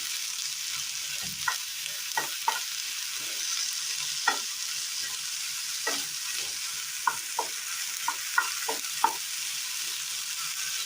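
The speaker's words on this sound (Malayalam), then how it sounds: "ശേഷം ഇതിലേക്ക് അരിഞ്ഞു വെച്ചിരിക്കുന്ന വഴുതനങ്ങ ഇട്ട് കൊടുക്കാം. ഒന്ന് വഴറ്റിയെടുക്കാം." Chopped eggplant stirred and sautéed in coconut oil in a pan for a Kerala curry: a steady sizzle with repeated scraping, clattering stirs scattered throughout, close and alone.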